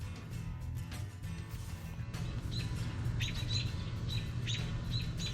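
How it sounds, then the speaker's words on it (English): Outdoor birdsong picked up from about 25 yards away, with faint repeated chirps and tweets that grow clearer partway through over a low background rumble. "This bird is being recorded at 25 yards."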